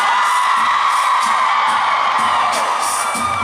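A concert crowd screams and cheers through the last chorus of a song, a loud, dense, sustained roar of voices with whoops rising over it.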